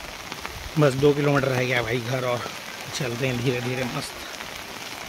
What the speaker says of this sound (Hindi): बारिश एकदम से स्टार्ट हो गई भाई वापसी के समय